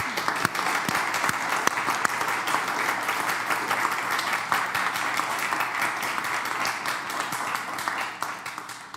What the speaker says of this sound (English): if everybody could give Colleen another round of applause